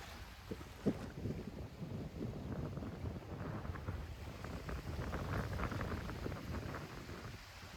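Strong wind roars steadily across the microphone outdoors at a beach in Çeşme, Turkey, a broad continuous rush with gusty buffeting and no voices.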